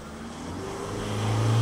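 Car engine revving as the accelerator is pressed, a low hum rising steadily in pitch and loudness over under two seconds.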